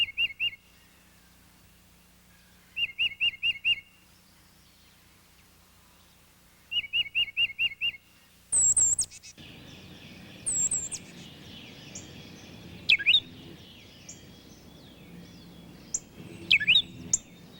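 Tufted titmouse song in a backyard: three bursts of rapid repeated whistled notes, clear and fairly near, then scattered sharper chirps and calls from other birds over quiet background, no voices.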